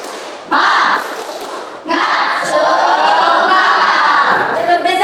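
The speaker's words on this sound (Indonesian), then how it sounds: "kita tambah lagi semangatnya dengan tepuk semangat" Schoolchildren in a classroom do a rhythmic spirit clap, a short burst of claps followed by a steady, dense run of clapping mixed with group voices, fairly loud and close.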